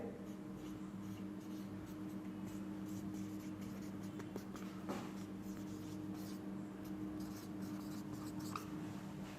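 Pen scratches notes onto paper in a quiet room during a banking study lesson: soft, faint, continuous strokes with a few sharper taps, under a low steady hum.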